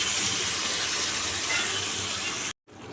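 Masala soaked in hot water pours into a hot pan with a continuous gushing, sizzling wash that cuts off abruptly near the end, then resumes faintly.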